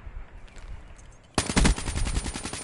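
KN44 assault rifle fire in Call of Duty: after a quiet stretch of low background noise, a rapid close burst of automatic shots hammers in and continues steadily to the end.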